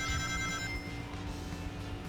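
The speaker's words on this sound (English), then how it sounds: "My phone's YouTube just went off for some reason" A smartphone suddenly starts playing a video's audio on its own: a bright, tonal, chime-like burst lasting under a second, then fading into a low, steady background hum with no talking.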